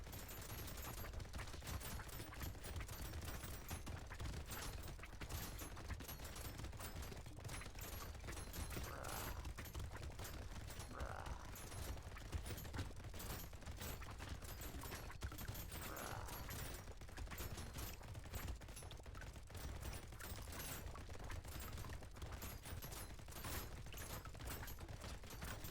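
Rapid, continuous Gatling laser fire from the video game Brotato, a dense unbroken stream of mechanical shots holding steady and loud from start to finish with no talk.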